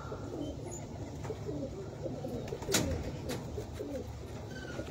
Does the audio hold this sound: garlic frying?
no